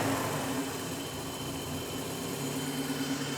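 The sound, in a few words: 1989 BMW 318i engine starting and running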